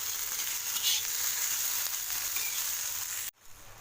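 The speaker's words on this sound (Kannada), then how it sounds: "ಇವಾಗಿನ ಸ್ವಲ್ಪ ಎಣ್ಣೆ ಹಾಕೋಣ. ಇದೆಲ್ಲ ಸ್ವಲ್ಪ ಲೋಳೆ ಎಲ್ಲ ಹೋಗೋವರೆಗೂ ಇಟ್ಕೊಳ್ತೀನಿ." Okra fries in oil in a pan, giving a steady, fairly quiet sizzling hiss that cuts off abruptly near the end.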